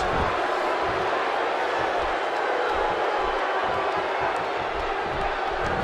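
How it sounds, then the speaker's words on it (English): Loud, steady roar of a sold-out arena crowd in the WWE 2K16 wrestling game during a six-man tag match, a dense wall of cheering noise running unbroken throughout with no voices on top. "You can hear the emphatic roar coming from sold-out crowds everywhere."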